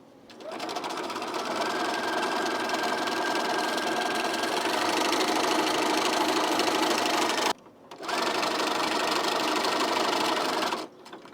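A sewing machine runs close and steady, stitching a quarter-inch seam on a Kenwin T-shirt in one long continuous burst, then a short pause and a second shorter run.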